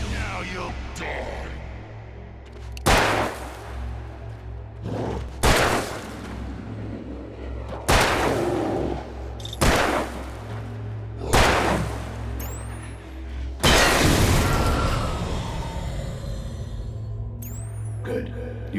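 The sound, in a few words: gunshots from Alan Wake Remastered video game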